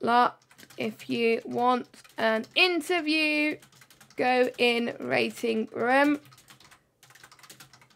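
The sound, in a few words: frantic typing on a computer keyboard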